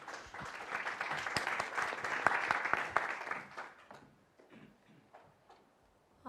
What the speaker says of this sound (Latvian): aplausus arī var